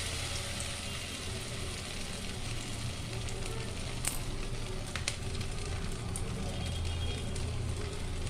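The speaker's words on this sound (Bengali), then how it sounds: "পনিরের টুকরোগুলো ভাজা হয়ে গেছে।" Batter-coated paneer pieces fry in hot oil in a kadai, giving a steady, dense sizzle that holds level throughout with occasional faint pops and no voices.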